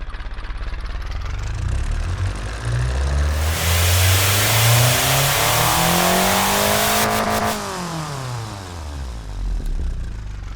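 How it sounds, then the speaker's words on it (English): Kei car engine in the Automation game revving up in sweeping rising and falling pitch, loud and close, climbing to a high sustained wail before dropping back to idle. "let's give you a listen to this engine before we don't have an engine in BeamNG.drive"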